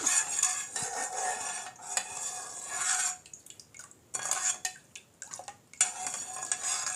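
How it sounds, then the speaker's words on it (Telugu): Sugar being stirred into fresh coconut milk for a coconut pudding, with a spoon clinking and scraping against the bowl in bursts, pausing briefly before resuming, fairly close. "పంచదార ఒకసారి బాగా కలుపుకుందాం"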